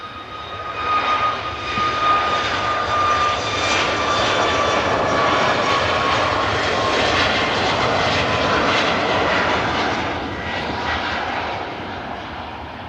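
Ryanair Boeing 737 MAX climbing away toward Charleroi, its engines giving a strong, continuous roar with steady tonal whines that peaks mid-way and eases off toward the end, no voices present.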